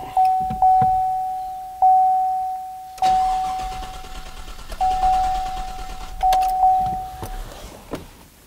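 A Chevrolet Silverado engine cranks without catching, the starter whirring in a rising-and-falling rhythm of repeated compression pulses for several seconds, close and loud, with a steady electronic tone running underneath and no talk.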